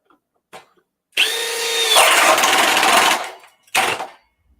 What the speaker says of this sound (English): I don't think any drill is going to do this in high speed.